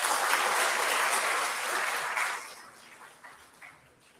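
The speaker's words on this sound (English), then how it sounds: "let's give her another big round of applause" An audience claps loudly at a university festival awards ceremony, dense steady applause that softens and thins out toward the end.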